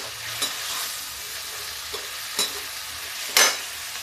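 Raw ground masala of tomato, garlic, chilli and black pepper cooking in a pan for a jackfruit dish, a soft steady sizzle punctuated by four sharp spoon scrapes and clinks against the pan, with no talking.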